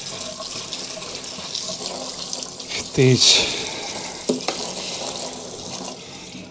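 Tap water running over chopped onions being washed in a kitchen sink, a steady close splashing stream throughout with a louder burst of splashing midway, under a brief spoken word.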